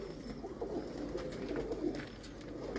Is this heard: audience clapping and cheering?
no